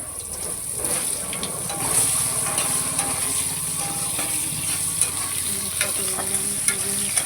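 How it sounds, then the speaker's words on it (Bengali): Pointed gourd (potol) fries in hot oil in a pan in a home kitchen, giving a steady close sizzle with light stirring and scraping throughout and no voices. "এবার আমি পটলগুলো ভেজে নেব"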